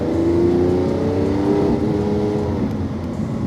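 A car accelerates around a race track, its engine note a loud, close, steady drone with rising and shifting tones, without any talk over it.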